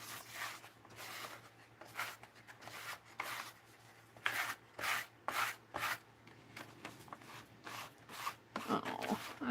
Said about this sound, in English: And I'm just going to scrape it.